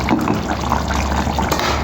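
Dal curry bubbling steadily in a pot on the boil, a close, continuous simmering gurgle with no voices.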